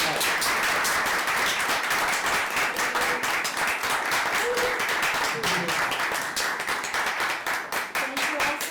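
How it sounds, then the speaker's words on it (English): A round of applause at a discussion on using AI in projects, steady dense clapping from a room of people lasting throughout, fairly close, with some murmured voices underneath. "let's give Stacy a round of applause"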